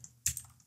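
A few quick computer keyboard keystrokes, crisp close clicks with one louder tap, quiet overall.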